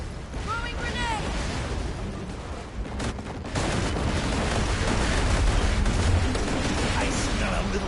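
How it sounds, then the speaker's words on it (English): Grenade blast in Borderlands 2 amid ongoing combat gunfire, with a sharp burst of noise partway through followed by a sustained loud rumble, while a person talks over it. "Grenade out! Throwing grenade!"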